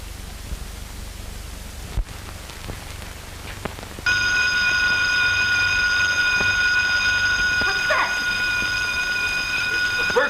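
A garage alarm bell starts abruptly partway through and rings on continuously and loudly, a steady piercing tone over faint background hiss, after a few scattered knocks and a sharp thud.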